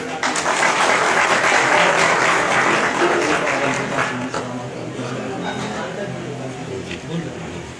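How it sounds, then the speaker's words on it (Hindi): A crowd at a tricycle distribution event claps loudly and steadily, the applause swelling at first and then easing off while a voice speaks over the tail. "एक बार हम जोरदार ताली"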